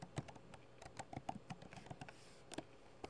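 Keystrokes on a computer keyboard while a formula is entered in Excel: quiet, close, irregular clicks in small bursts, with a short pause before a final few taps.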